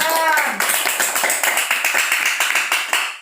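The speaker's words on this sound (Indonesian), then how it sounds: "Nah, kasih tepuk tangan" A group gives a round of applause in a classroom discussion, rhythmic claps that start abruptly after a brief voice and continue as a quick, steady patter, fairly close and loud.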